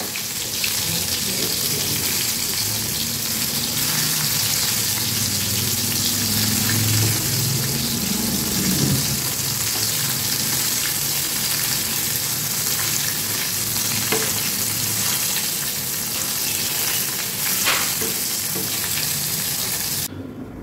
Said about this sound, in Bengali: ভালো করেই ভাজবো, আধ ভাজা থাকবে না